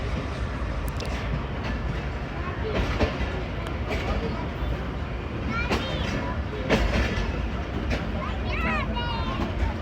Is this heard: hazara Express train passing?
yes